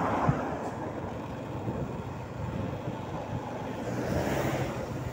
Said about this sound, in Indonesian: Angin sepoi agak keras menampar pipi kita.